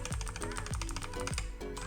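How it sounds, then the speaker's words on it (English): Clicky linear optical switches on a Razer Huntsman Elite gaming keyboard clatter under fast, steady typing, close and crisp with no voices. "this keyboard makes a lot of noise"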